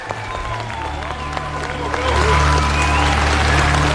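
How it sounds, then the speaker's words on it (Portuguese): A crowd at the 2023 Varna World Challenge Cup gymnastics meet cheers and applauds after a routine that ends in a stuck Tsukahara vault. The applause swells to a loud, full roar about halfway through, under a commentator's voice. "E a torcida vibra demais, né? Porque foi uma excelente prova."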